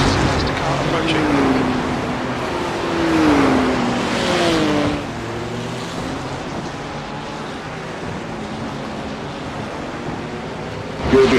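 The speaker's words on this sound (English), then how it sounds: "there's the car approaching" A BMW GT3 race car on the track at Road Atlanta draws closer, its engine note rising and sweeping in pitch for several seconds before settling into a steady, broad roar with a faint swell at the very end.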